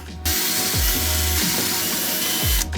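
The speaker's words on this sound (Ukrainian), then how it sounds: "корпус редуктора може повертатися на 360 градусів, як вам зручно, так і ви фіксуєте" The gearbox housing of a Revolt cordless angle grinder, styled like a Makita, is rotated by hand and locked. It gives off a rapid, close ratcheting clatter with four brief, heavier clicks at regular intervals, alone with no talk.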